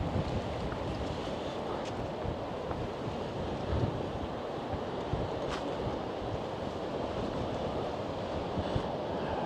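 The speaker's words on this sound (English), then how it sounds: "Very windy and blustery down here" Strong, blustery wind buffets the microphone on a beach, a continuous roar mixed with the rush of waves, steady and dense with occasional gust bumps and no talk.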